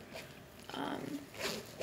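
A small zipper on a makeup travel pouch is pulled open in two quick scratchy strokes, close and fairly soft.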